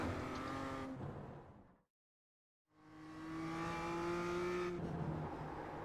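A BMW GT4 race car in the iRacing sim, its engine revving high, dropping out into a second of silence, then climbing back through a rising tone, with gear-change steps audible in the loud, close engine note.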